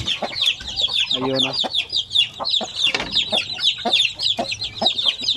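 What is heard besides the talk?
pure Basilan chickens clucking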